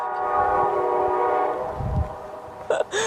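A passing train sounds a long, loud, steady horn blast that fades, then gives two short sharp toots at the end, with rail rumble underneath outdoors.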